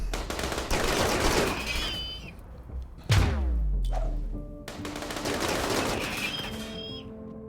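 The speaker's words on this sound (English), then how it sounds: "The mortar thwomp is so satisfying." Mortar fire in the colony-building game RimWorld, a few deep thumping launches with booming low tails, separated by stretches of rushing noise, loud and close with no talk.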